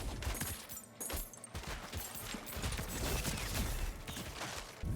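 Gunfire cracks in quick, uneven bursts while shooting at an enemy in the video game Jotunnslayer, the shots layered over busy in-game action and clatter.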